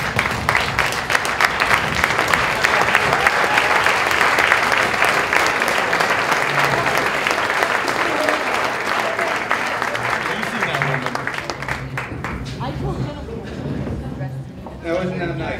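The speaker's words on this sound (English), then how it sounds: "I want everybody to give a round of applause to whoever was, you know, who served for us." A standing audience at a comedy fundraiser gives military veterans a long round of applause, a loud, sustained crowd of clapping that thins toward the end as voices and cheers poke through.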